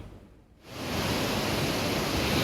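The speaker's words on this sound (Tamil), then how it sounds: "கோவை குற்றாலத்தில் வரலாறு காணாத வெள்ளப்பெருக்கு தொடர் வெள்ளப்பெருக்கு ஏற்பட்டுள்ளது" Floodwater roars down the Kovai Courtallam waterfall near Coimbatore, a loud, dense, unbroken rushing wash that swells in after a brief quieter moment and then holds steady.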